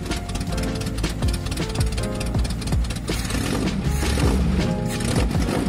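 A 1984 Citroën GSA X1 engine running with a harsh, rapid ticking and puffing from a leaking exhaust pipe, loud and close, steady throughout without talk.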